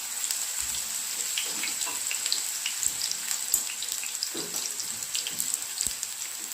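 Raw banana slices sizzle in hot oil for a vegetarian fish fry, a steady bright crackle with scattered pops and no one speaking.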